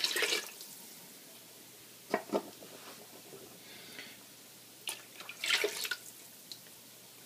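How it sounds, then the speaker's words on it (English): Shrimp stock and canned coconut milk pour into a cooking pot for a Thai shrimp bisque, giving intermittent liquid splashes and glugs in several short bursts, close and moderately quiet, with no talking. "Now we put in the shrimp stock. And our 4 cans of coconut milk."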